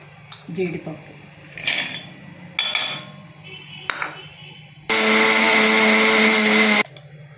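A kitchen blender grinding cashews and almonds, preceded by short taps and clatter, then a loud, steady two-second whir at close range that stops abruptly.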